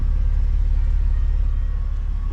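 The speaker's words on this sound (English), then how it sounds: "it doesn't sound like anything crazy because obviously exhaust is completely stock" A car with a completely stock exhaust idles close by, giving a steady low, even rumble with a mild pulsing throb and no revving or talking.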